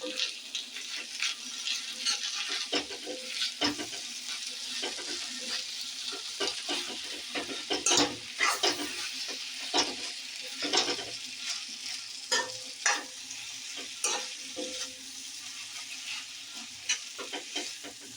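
Egg noodles are stir-fried in a pan, giving a soft, continuous sizzle punctuated by frequent clicking and scraping taps as the utensil tosses them, heard close and alone.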